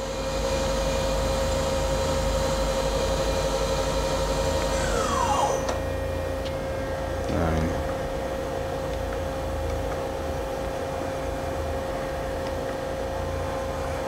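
A 2013 Doosan Lynx 220LMSA CNC lathe with Fanuc i Series control runs its main spindle at 3,000 RPM, holding a constant tonal whine and hum with a brief falling sweep and a short surge midway before settling back to a steady drone.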